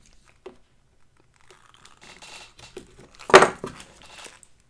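Layers of packing tape being cut and torn off a package give quiet scattered crinkles and rustles, building to one louder ripping tear near the end.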